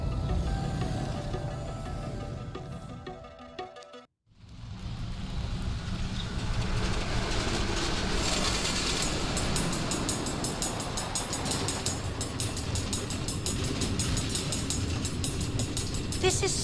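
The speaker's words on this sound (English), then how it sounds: "Automated train tracks running all through the nether, connecting all the different order members?" Automated train running on tracks through the Nether in Minecraft Story Mode: a sustained rolling rail rumble that drops out abruptly for a moment, then returns louder with rattling, clattering wheel noise through to the end.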